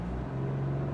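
A 2024 Buick Envista Avenir launches from a brake-torqued standstill, its engine droning steadily and rising in pitch as it accelerates, heard from inside the cabin without talk.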